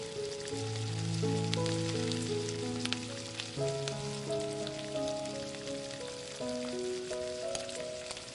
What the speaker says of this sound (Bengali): তেলটা যখন হালকা গরম হয়ে যাবে তেলের মধ্যে এক এক করে চিকেনের টুকরোগুলোকে ছেড়ে দেব